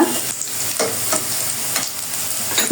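Chopped onion and green chili fry in hot oil, a steady close sizzle with soft stirring strokes scraping through the pan the whole time, no voices.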